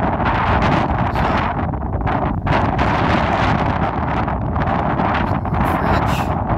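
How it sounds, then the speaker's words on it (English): Strong wind blows steadily across the open Texas Panhandle near Fritch, roaring and buffeting the microphone without a break, loud and close throughout, with no voices heard. "the weather today is supposed to have a wind speed of 26 miles an hour"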